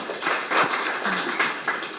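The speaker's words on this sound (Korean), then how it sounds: "박수로 모시겠습니다." Scattered, light audience applause welcoming a speaker at a panel discussion on prosecution reform, soft and somewhat distant, with patchy clapping that fades in and out.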